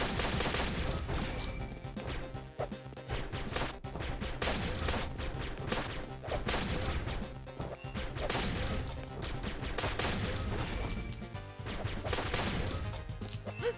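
Heavy big-bullet gunfire in the game Flinthook, a dense, continuous barrage of punchy shots and crashing impacts layered over busy game sound for the whole stretch, no talk.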